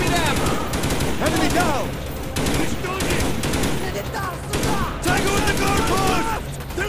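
Enfield rifle fire in Call of Duty: Black Ops, loud dense volleys of shots cracking steadily throughout amid heavy battle noise, with a voice shouting briefly in the middle.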